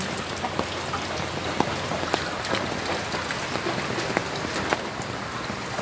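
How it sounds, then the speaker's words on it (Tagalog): Heavy rain pours down steadily near a flooded house with wet animal pens, a dense close hiss with scattered louder drips, and no voices. "Grabe lakas ng ulan kasi."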